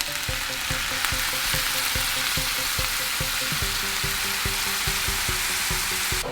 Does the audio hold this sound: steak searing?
yes